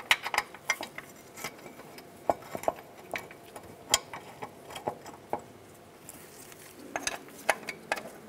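Metal brake caliper bracket bolts on a 2002-2005 Chevrolet Trailblazer front brake being handled and threaded back in, heard as quiet scattered metallic clicks and taps against a hushed garage background.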